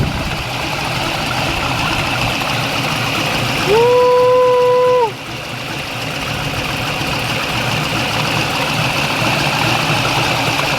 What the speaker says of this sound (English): It has an LS engine.